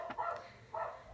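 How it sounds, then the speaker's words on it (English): Several dogs bark in a noisy home, two short bursts of barking about half a second apart, moderately loud against a background of household commotion. "the dogs are barking"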